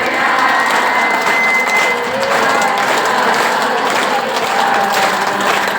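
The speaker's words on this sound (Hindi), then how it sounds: "जोर से ताली।" Loud, continuous group clapping fills a devotional satsang gathering with Radha chanting, a dense crowd sound holding steady throughout with faint voices mixed in.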